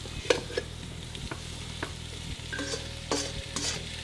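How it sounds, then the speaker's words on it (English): Already boiled potatoes for home fries sizzle in a hot pan, a steady close frying hiss broken by scraping stir strokes and occasional sharp pops, with no talking. "Putting in the potatoes."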